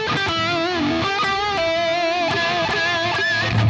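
Electric guitar picked through maximum distortion, a saturated, buzzing lead line of held and gliding notes that stays loud and steady throughout with no voices.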